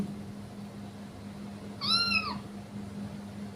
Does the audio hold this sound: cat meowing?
yes